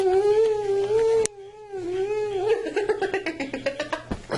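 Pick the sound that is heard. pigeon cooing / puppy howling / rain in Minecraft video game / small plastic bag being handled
puppy howling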